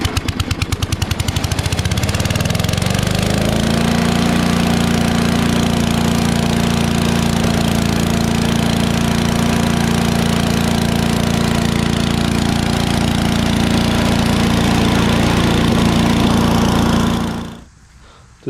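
An old Craftsman wood chipper's 8 hp Briggs and Stratton engine sputters into life, then runs loud and steady with a throbbing hum for a long stretch before abruptly shutting off.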